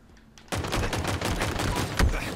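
Rapid burst of pistol fire in Halo Infinite, shots bunched close together in a dense, loud volley after a brief quiet start, with a sharper crack near the end.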